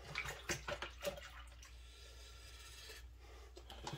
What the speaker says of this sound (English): we'll just keep stirring it until the salt is completely dissolved